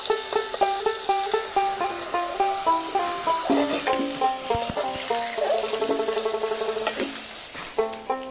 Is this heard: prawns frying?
yes